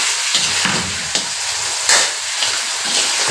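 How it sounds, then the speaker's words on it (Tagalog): Chicken escabeche sizzles and crackles as it is sautéed in a hot pan, with a few scrapes and stirs of a utensil breaking through the steady frying hiss. "Gisahin natin muna."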